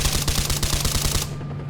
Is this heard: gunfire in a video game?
yes